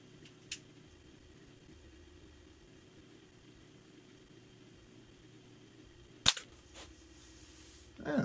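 A Ruger Mark IV .177 spring air pistol made by Umarex fires a sharp single crack over a quiet background, followed by a lighter click; an earlier faint tick comes before it.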